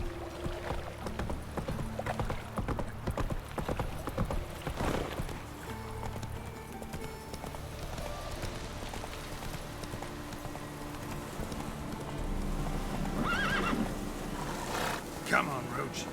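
In The Witcher 3, a horse gallops with a steady clip-clop of hooves running under game music and ambience, with voices speaking over parts of it.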